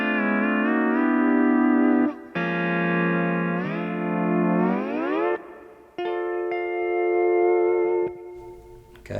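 A pedal steel guitar plays a song ending, with sustained, sliding chords that bend upward and ring out in several phrases, clean and fairly soft with no voices.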